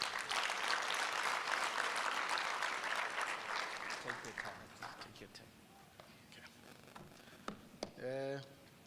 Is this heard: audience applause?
yes